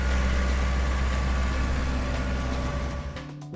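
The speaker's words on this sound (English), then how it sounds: "seed drill tractor" A tractor pulling a seed drill runs with a steady, low engine drone and idling rumble, constant and fairly close before it cuts off abruptly at the end.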